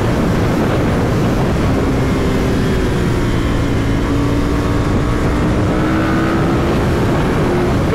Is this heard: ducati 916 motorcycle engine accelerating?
yes